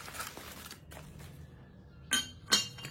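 The ceramic lid of a small oil dispenser is handled, giving two quick, light clinks near the end after a stretch of faint rustling, close but quiet.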